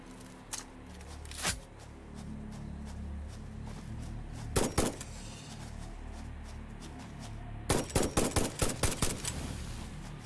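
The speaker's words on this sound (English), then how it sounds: "Do I have any shots left on my gun?" Gunfire in the video game Satisfactory: a few scattered single shots, then a quick double burst, and finally a rapid string of about eight sharp shots over steady background game ambience.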